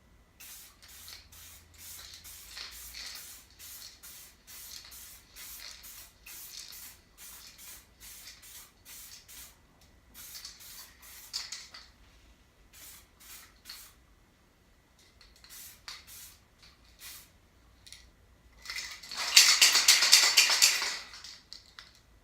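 Duracoat finish is sprayed onto a Smith & Wesson M&P Shield pistol in short back-and-forth strokes, giving rapid close hissing bursts and a longer, louder spray near the end.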